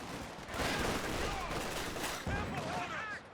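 Gunfire and artillery bombardment in the World War II strategy game Company of Heroes 2, a dense, continuous roar of shots and blasts lasting a few seconds, loud throughout, with a voice speaking faintly beneath.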